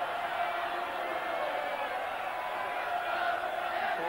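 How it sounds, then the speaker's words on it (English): Football crowd at a York City versus Liverpool FA Cup fifth-round match roars steadily at a distance, a continuous wash of cheering with no distinct voices standing out. "And the crowd turns up the volume."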